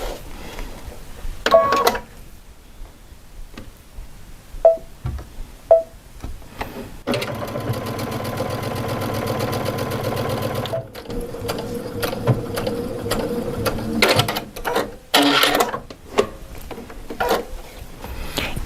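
A sewing machine runs a stitch, beginning with short tight stitches and ending with reverse reinforcement stitching. The whir comes in bursts: a few brief clicks, a steady run of several seconds, then shorter spurts and pauses, close and moderately loud.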